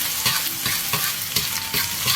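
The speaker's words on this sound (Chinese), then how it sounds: "把姜蒜炒香" Ginger and garlic sizzle in hot oil in a wok, with a steady loud frying hiss broken by repeated scraping strokes of a spatula stirring close by.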